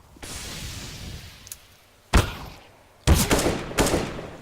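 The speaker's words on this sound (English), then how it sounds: "straight away Gringo is going to take down Terror with the headshot" Gunshots from a Counter-Strike match on the Nuke map: two sharp, loud cracks, the first after a quieter start and then a tight cluster of rapid shots, each with a decaying tail.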